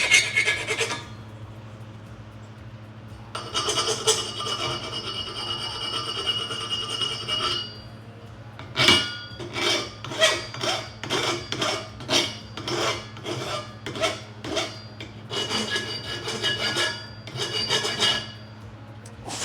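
A hand file rasps over a metal go-kart part in loud, close strokes. There are sustained passes first, then a quick rhythmic series of short back-and-forth scrapes, with no talking.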